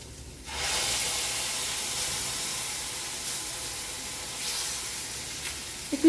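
A spice mixture hits fried onions in a pan for Bengali bhetki fish with poppy seed, setting off a sudden, steady close sizzle and hiss that continues evenly with slight swells.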